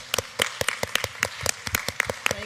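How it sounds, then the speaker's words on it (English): Applause for panel speakers at a community health conference session, heard as distinct separate claps in an uneven rhythm, close and fairly loud, more like a few hands than a full crowd. "Round of applause for our speakers,"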